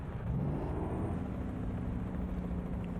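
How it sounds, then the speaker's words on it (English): Truck engine brake in American Truck Simulator, a low steady rumbling drone with a faint tonal buzz, moderately quiet and continuous, no talk over it. "It's a nice sounding engine brake for sure."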